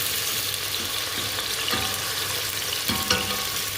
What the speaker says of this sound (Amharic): ከዘይት ጋር ሽንኩርታችን እንጨምራለን ማለት ነው።